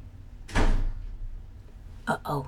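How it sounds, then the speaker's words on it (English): Door shutting indoors: a close, solid thud followed later by a pair of quicker knocks from the latch settling, with a faint background hum. "Hear the door shut?"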